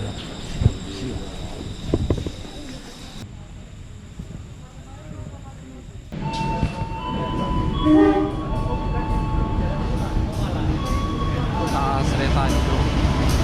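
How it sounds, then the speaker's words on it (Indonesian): A train in Banyuwangi, Indonesia rumbles past with a loud sustained horn blast and rising rail noise, following a stretch of nearby talk and breezy ambience. "Kereta itu."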